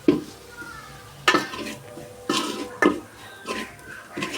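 Spice powders being sautéed in a pan for beef curry: repeated close scraping strokes of a spoon against the pan over a faint sizzle, coming every second or so.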